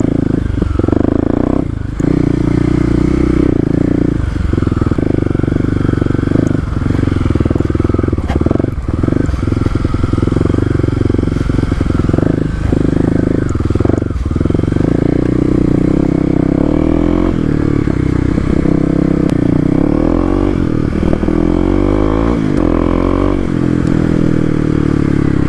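Kawasaki KLX250 dirt bike ridden off-road on a dirt trail, its single-cylinder engine loud and close throughout, revving and shifting with clattering and scraping from the terrain.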